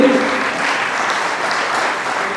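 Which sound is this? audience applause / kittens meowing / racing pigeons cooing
audience applause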